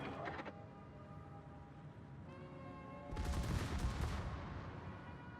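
Battleship secondary guns firing in World of Warships: a rapid crackling volley near the start, then a louder roaring salvo midway over steady engine and sea drone, with no speech.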